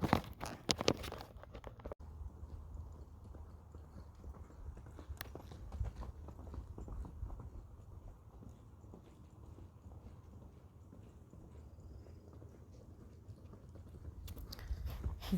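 Horse hooves loping on the ground during a tarp desensitization ride, a faint rhythmic thudding that keeps a steady gait through the clip.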